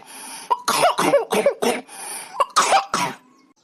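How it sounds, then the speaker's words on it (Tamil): A cartoon character with a cold coughs in a series of loud, close, harsh bursts, about seven in quick groups with short pauses between them, and no other voice is heard. "ஏன் இப்படி இருமுற எனக்கா எனக்கு ரொம்ப சளி பிடிச்சிக்கிச்சுக்கா"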